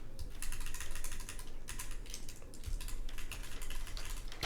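Steady, rapid typing on a Bowl Keyboards OC-62 mechanical keyboard with keycaps lighter than GMK, the dense clacking close and continuous with no voices.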